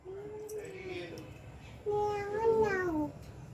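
Two drawn-out, wavering meows from a cat near a window, the first softer and the second louder and rising then falling, with no talk.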